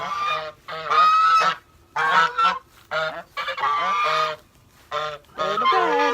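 Geese honk loudly and close in repeated bursts of harsh, nasal calls with short pauses between them, several birds calling over one another.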